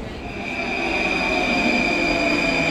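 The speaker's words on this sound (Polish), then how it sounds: "Tutaj mamy metro." A Warsaw metro train at a station gives a loud, steady rumble with a sustained high-pitched whine and squeal of wheels and motors as it moves along the platform, with no voices.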